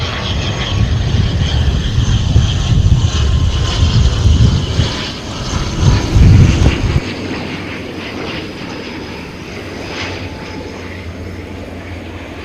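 An aircraft in all-black livery arrives at an airport, its engine roar loud and rumbling for several seconds before easing into a steadier, quieter hum as it passes.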